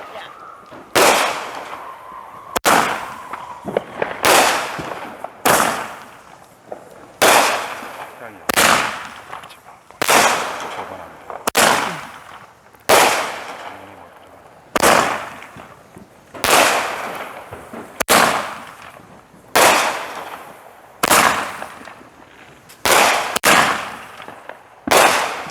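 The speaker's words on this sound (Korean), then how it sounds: "와, 소리가 어마어마하네요. How many fireworks did you prepare?" Independence Day fireworks in a home setting in the United States go off as a long series of loud, sharp cracking bursts, repeating roughly every second or two with short crackling tails between them.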